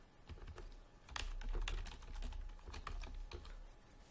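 Typing on a computer keyboard while entering project details in a software setup screen: a quick, irregular run of close, crisp key clicks with a few louder strokes, no voices.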